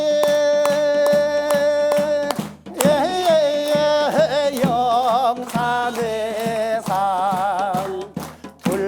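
Audience at a Buddhist Dharma gathering claps hands in a steady beat along with a monk's chanted, sung hymn; the sharp claps repeat evenly under the loud melodic voices.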